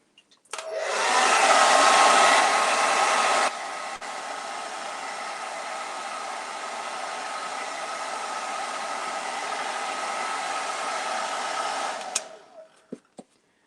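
A hair dryer blasts close and loud while drying acrylic paint on a crow-and-moon gift box, starting strong, dropping to a slightly lower steady setting after a few seconds, then switching off with a few clicks.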